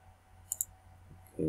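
Two quick, sharp computer mouse clicks in close succession on a Windows XP setup, crisp and near, followed by a brief burst of another sound at the end.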